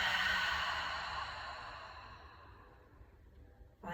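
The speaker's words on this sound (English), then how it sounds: "Let's invite one more collective inhale. Open mouth, exhale." A long open-mouthed exhale during a yoga class, breathy and airy, loud at first and slowly fading to quiet over several seconds before a short new breath at the end.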